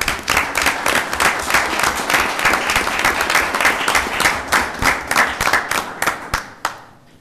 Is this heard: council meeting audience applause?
yes